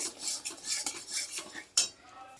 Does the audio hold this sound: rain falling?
no